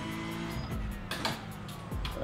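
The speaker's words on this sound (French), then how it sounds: "Alors là on sort des stands. Donc voilà, petit limiteur et là c'est bon, on peut accélérer." Race car in a racing simulator pulling out of the pits, its engine rising from the pit limiter as it accelerates, with a steady mechanical drone and brief higher swells, heard alone at close range.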